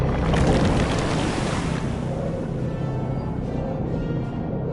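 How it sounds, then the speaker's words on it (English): Flood waves of water rushing from a burst dam in the video game Dungeons 2, a loud, broad churning roar that surges at first and then rolls on steadily. "the Alliance's camp disappeared under waves of water with a very satisfactory gurgling sound"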